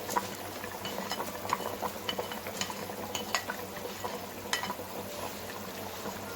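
Fried onions being stirred into tender cooked beef nehari, a quiet simmering bubble with spoon scrapes and light metallic taps against the pot.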